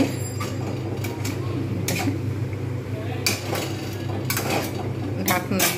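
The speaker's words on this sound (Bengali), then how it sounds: "এবারে এইটাকে আমি হালকা করে একটুখানি জাস্ট নাড়িয়ে নেব।" Chili, salt and turmeric stirred into a pan for a mustard hilsa dish, metal spoon scraping and clattering in irregular bursts over a continuous low cooking hiss.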